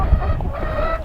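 Chickens cluck and murmur at close range in a coop, a short burst of soft fowl chatter with one sharper call near the end.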